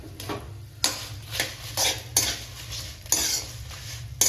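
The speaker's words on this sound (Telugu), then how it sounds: "ఈ అన్నిటిని మంచిగా ఫ్రై చేసుకోవాలి ఆయిల్లోకి." Coriander seeds, fenugreek and chillies fry in oil in a pan while a metal spoon stirs them. Repeated scraping clinks sound over a steady low hiss, close up, with no talking.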